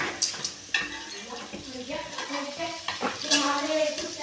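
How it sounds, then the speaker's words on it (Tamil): Onions stirred and frying in a pan for tomato rice, with scraping and sizzling through the clip and occasional utensil clinks, while someone talks over it. "வெங்காயம் போட்டு நல்லா கிண்டிக்கலாம்"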